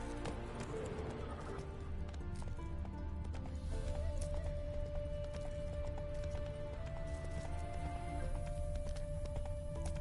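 Roach the horse galloping in The Witcher 3: Wild Hunt, steady hoof clip-clops drumming along under faint game music and ambient sound.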